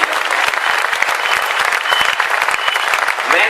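A hall audience at a poetry recital bursts into loud, dense applause that holds steady throughout, a close and continuous wall of clapping with a faint murmur of crowd beneath it.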